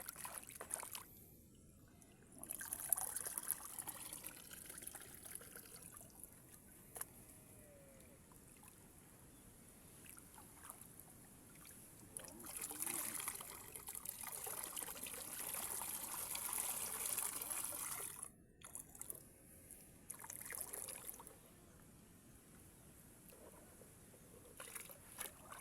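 Water runs and splashes while mud is rinsed off during washing, a faint, uneven trickle and gush that swells and fades over about twenty-five seconds, with no talk.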